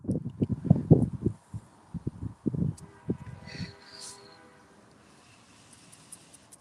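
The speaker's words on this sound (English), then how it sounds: "Big train coming through." A train rumbles past in the distance, with low irregular thumps and clatter that gradually fade, leaving quiet background noise.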